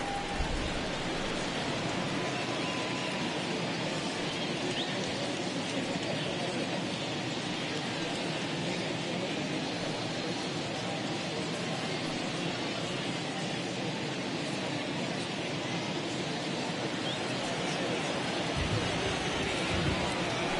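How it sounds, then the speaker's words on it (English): Rain falls steadily on a baseball field in a video game, a dense, even hiss that holds at a constant level throughout. "right now this field is getting sloppy wet, man, and I don't know how much more rain this field can take."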